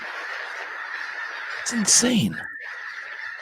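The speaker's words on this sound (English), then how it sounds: "These are snow geese." Snow geese honking around 1.6–2.3 seconds, a brief cluster of calls rising above a steady background hiss, with a voice speaking briefly.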